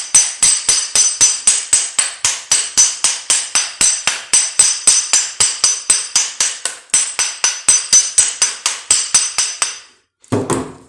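Hammer striking a transformer core to loosen its varnish: a fast, steady run of sharp, loud metallic blows, about three per second, close by and unbroken until a heavier thud at the very end.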